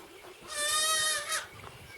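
A single loud, harmonic goat bleat lasting under a second rings out on a homestead farm, with fainter farm ambience and a softer second call shortly after.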